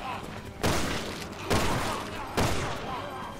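Video game gunfire aimed at a giant fly enemy: three loud, close blasts about a second apart, each ringing out before the next, with a voice faintly underneath.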